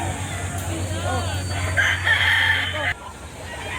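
A gamecock crows once, fairly close, over steady background murmur and low hum at a chicken market in Padre Garcia, Batangas.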